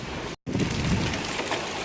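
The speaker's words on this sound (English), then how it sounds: "now it's hailing out" Hail and heavy rain pound steadily on a van outside during a storm, a dense continuous drumming with no talk over it, briefly cut out for a moment.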